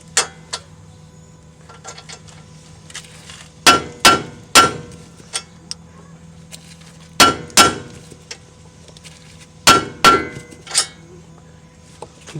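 A hammer taps the steering knuckle of a 2015 Mazda 3 during a lower control arm replacement, giving sharp metallic strikes in small clusters of two or three with quiet gaps between them, close up.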